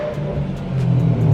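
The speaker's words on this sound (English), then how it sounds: "This exhaust sounds insane." Exhaust of a 700 hp Nissan GT-R, a loud, close, deep rumbling drone that swells slightly as the engine pulls, with no talking.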